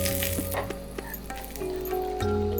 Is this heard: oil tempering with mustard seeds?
yes